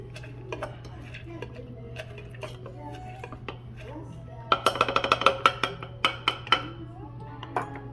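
Cranberries muddled in a metal cocktail shaker, a soft scraping at first, then a quick run of sharp, bright clinks and knocks close by, with a voice talking over parts of it.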